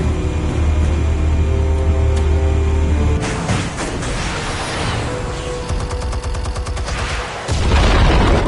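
Explosives go off in the game Telltale Batman as a heavy, rumbling boom. A rattling, crackling debris wash follows, with no talking.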